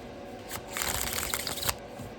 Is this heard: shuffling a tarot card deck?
yes